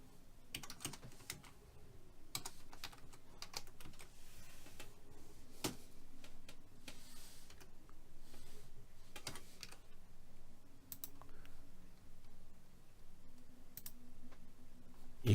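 Typing on a computer keyboard, bursts of quick soft key clicks with pauses between, close but quiet, no voices.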